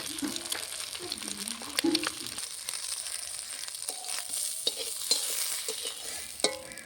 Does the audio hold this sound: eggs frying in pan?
yes